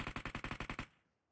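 A rapid burst of about eight evenly spaced automatic gunshots in the mobile game PUBG Mobile, loud and close, ending in a short fading tail.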